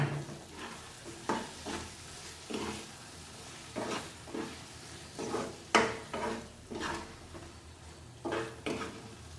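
Spicy mushroom curry is stirred in a pan, with a spoon scraping the bottom in regular strokes about once a second over a soft background sizzle, close and clear with no talking.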